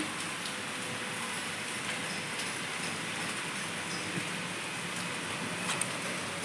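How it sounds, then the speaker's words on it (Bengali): Continuous dense rainfall hissing steadily, with occasional faint drips and taps, no voices. "ভালো জোরে বৃষ্টি হচ্ছে।"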